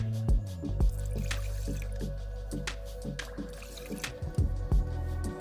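Water for basmati rice is poured into a pot in a steady stream, with close, irregular drips and splashes sounding throughout and no talking.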